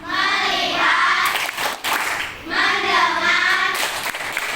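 Schoolchildren in a classroom clap along to a rhythmic focus chant, their voices chanting in unison with claps in two short repeating phrases.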